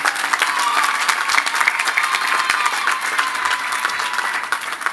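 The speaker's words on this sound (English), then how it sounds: "A round of applause for our faculty." A large audience at a college commencement applauds the faculty, sustained crowd clapping that stays loud and dense throughout, crackling evenly from start to finish with no voices on top.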